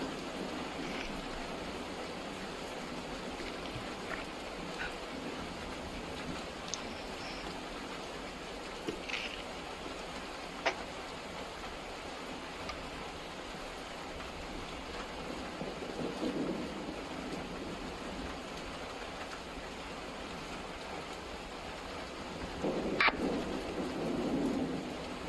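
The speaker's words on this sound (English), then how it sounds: "This rain sound's making me thirsty." Steady, moderate rain falls through a thunderstorm, a constant hiss with a low background rumble of thunder and a few sharper cracks and drips standing out near the end.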